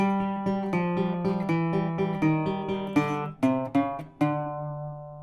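An acoustic guitar plays a bluesy descending turnaround of plucked triplet notes on the 4th string against the open 3rd string, then settles on a ringing low note near the end.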